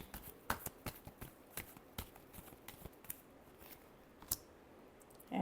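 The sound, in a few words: shuffling tarot cards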